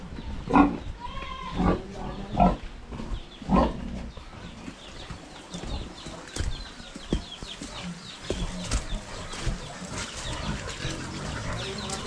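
Pigs grunt and oink repeatedly at close range on a backyard farm that also keeps goats in Batangas, with other animal and ambient noise in the background.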